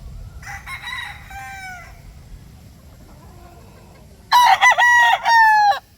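A Boston straight comb breeder rooster crows, loud and close: one softer crow early, then a strong, drawn-out crow near the end, over quiet farmyard background with no talk.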